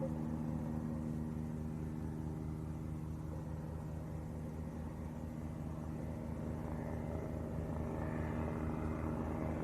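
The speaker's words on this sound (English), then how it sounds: "I hear a helicopter, Tom. I can see a helicopter. And it's coming straight for us." A medical helicopter drones steadily overhead near Lanzarote Airport, a constant low rotor hum with engine rumble, fairly faint and distant, no voices.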